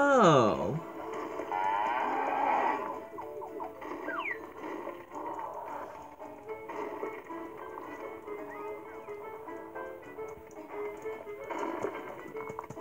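Cattle moo in a video game. A long, low moo opens loudly, then fainter mechanical clicks and game sounds carry on steadily with no talking.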